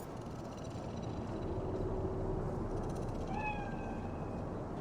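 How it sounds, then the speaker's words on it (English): A cat in the Cyberpunk 2077 video game gives a couple of faint, short meows over a steady background hum of the game's ambience. "Do you see it? That cat?"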